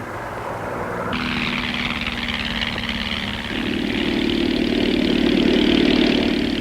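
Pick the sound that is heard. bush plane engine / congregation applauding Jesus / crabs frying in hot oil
bush plane engine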